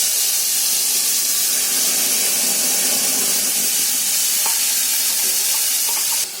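Ground Konkani masala hits hot oil already crackling with cumin seeds, a loud, steady sizzle and hiss that runs throughout, with a few light stirring clicks toward the end.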